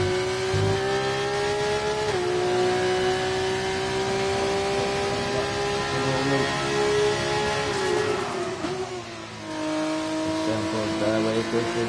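Race cars lapping the Saudi Arabia circuit on super soft tyres near the hairpin. A loud, sustained engine note dips through gear changes and braking, then builds again as the car accelerates.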